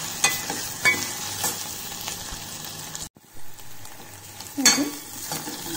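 Onions fry in a pan, browning under a close crackling sizzle with scraping stirs, a brief hush midway, then the hiss returns with a sharp flare of spattering.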